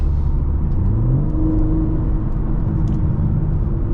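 The engine of a 2023 BMW M3 Competition xDrive hums steadily and rises slightly in pitch as it accelerates, a low, continuous drone that stays fairly loud throughout.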